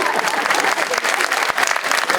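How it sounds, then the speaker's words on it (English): A film festival audience at a documentary Q&A breaks into sustained, lively applause, dense clapping throughout with a few crowd voices mixed in. "Let's give them a round of applause."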